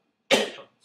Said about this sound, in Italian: Scusatemi per la tosse, ma non dipende da me.